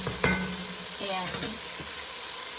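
A pot of copycat Panera creamy tomato soup cooks down with a soft, steady sizzle and bubbling, broken early by one sharp utensil clink and a brief scrape, heard close and quiet.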